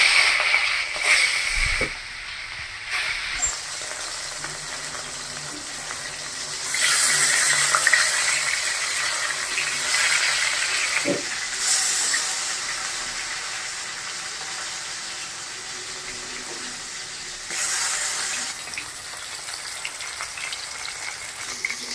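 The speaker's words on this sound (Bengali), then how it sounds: "মাছগুলো আমি এখন কড়াইতে দিয়ে দিচ্ছি।" Rohu fish frying in mustard oil in a wok, a steady close sizzle throughout with a few louder bursts and occasional clanks.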